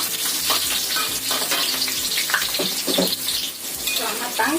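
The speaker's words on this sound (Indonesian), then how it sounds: "Kemudian kita goreng cabai, bawang merah, dan juga bawang putihnya." Chilies, shallots and garlic sizzle and fry steadily in a hot pan, with a continuous crackling hiss and occasional stirring scrapes close by.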